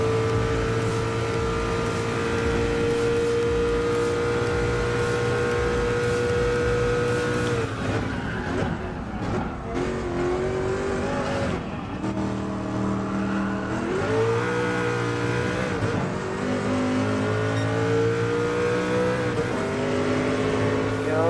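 Race car engine in Gran Turismo Sport, a loud sustained roar with gear changes, revving up and down through shifts as the car drives hard in a race, with no talk.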